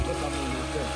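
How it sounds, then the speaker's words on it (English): Steady running water from a stream in a Chinese garden in Berlin. The flow is a continuous, even wash that is fairly close and has no breaks across the short stretch. "I love the sound of the water running in the stream."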